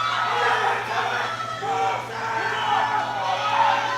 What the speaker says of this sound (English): Half of the room is standing up to cheer him right now.